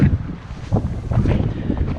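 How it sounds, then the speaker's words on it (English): Steady trade wind blowing across a hillside on the Caribbean island of Bequia, buffeting the microphone with a continuous low rumble and gusty roar that rises and falls throughout. "lovely constant trade wind, cool breezes all day"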